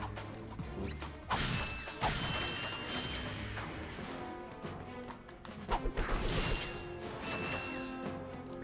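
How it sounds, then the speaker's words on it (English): Rapid metallic clinks and clatters of bolts being collected in Ratchet and Clank, layered over busy, dense game sound effects. "There is something just satisfying about the sound of those bolts collecting."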